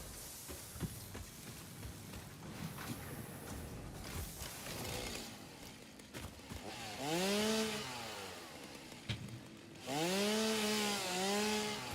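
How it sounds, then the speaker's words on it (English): A chainsaw in the video game Satisfactory revs up in loud bursts, its buzzing engine whine climbing and dropping twice over a busy, crunchy grinding background. "Right, chainsaw."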